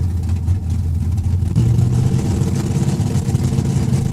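A Camaro drag car in the Pro class at Saskatchewan International Raceway makes a single pass, its engine droning and revving loudly and continuously, rising in pitch partway through.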